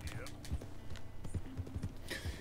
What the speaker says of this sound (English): Oh, and this is still Scarlet the horse